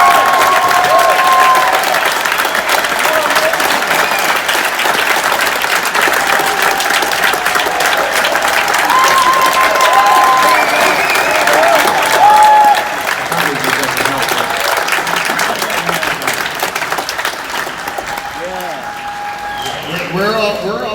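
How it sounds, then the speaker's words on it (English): An auditorium audience at a Q&A with Bob Lazar about Area 51 and flying saucers applauds loudly and steadily for about twenty seconds, with scattered cheers and some voices in the crowd. "give Bob Lazar a hand"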